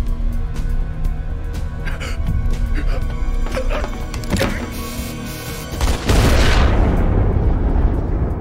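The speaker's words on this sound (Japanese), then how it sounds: "てめえの贈り物は頭の上で爆破した。" A sudden loud explosion bursts near the end of a tense stretch in the 2004 anime film Ghost in the Shell 2: Innocence, following scattered sharp impacts and rumbling effects over a low droning score.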